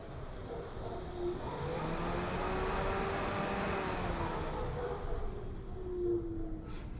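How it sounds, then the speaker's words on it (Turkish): An Alfa Romeo 156 radiator cooling fan runs at its second speed setting, a steady broadband whoosh with a low motor hum that holds evenly for several seconds, fairly close, with no talk over it. "Sonra ikinci seviyede fanı kontrol edebiliyorum."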